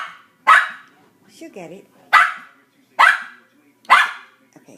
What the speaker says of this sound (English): Okay, stop the barking and get the cookie